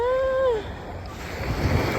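An ocean wave breaks and washes ashore at East Coast Beach in Singapore, a soft close surge of surf and wind after a short voiced tone at the start.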